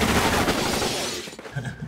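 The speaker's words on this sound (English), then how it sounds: "All the shooting." Dense, loud gunfire from a film scene in Once Upon a Time in Hollywood, a rapid burst of overlapping shots with a crashing, chaotic texture that thins out near the end.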